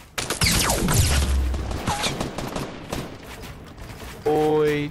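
Rapid bursts of video game gunfire crackle loudly through the first seconds, then a sustained tone takes over near the end, with players talking over the shooting.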